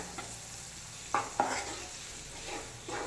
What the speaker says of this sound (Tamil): இது நல்லா கலந்து விட்டுக்கோங்க.